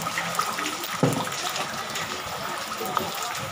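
Steady rushing floodwater from Typhoon Ulysses (Vamco) in a floodway fills the clip, a broad continuous wash with a brief splash near the one-second mark, voices faint underneath.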